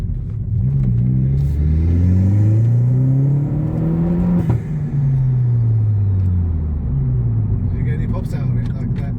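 Vauxhall Corsa VXR Nurburgring Edition with a cat-back exhaust revs up and falls back in a loud, close, rising-and-falling drone, ending in a few crackling pops, while people talk over it.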